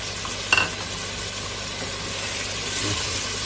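Meat, potatoes and fenugreek fry in a pan with added yogurt and spices, giving a steady close sizzle with a brief clatter of stirring near the start.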